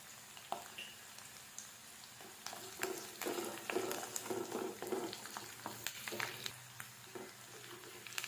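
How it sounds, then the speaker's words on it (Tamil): Onion and cumin frying in oil in a pan for paneer masala, giving a low steady sizzle with scattered stirring clatters and scrapes, fairly faint throughout. "வெங்காயம் நல்லா வதங்கட்டும் கொஞ்சம் வந்து ஜீரகம் போட்டுக்கலாம்"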